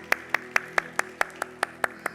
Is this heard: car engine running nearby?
no